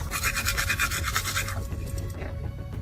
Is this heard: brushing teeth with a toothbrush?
yes